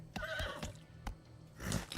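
Whinnying horse sound effect from a lottery ad: a trembling neigh punctuated by several crisp hoof clops, then a breathy snort at the end, clear and close, without speech.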